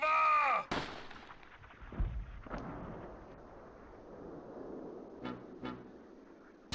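Tank cannon and gunfire in the Close Combat war game, set in Normandy in June 1944: a loud blast opens, followed by a rumbling decay, scattered sharp reports and a final sharp burst.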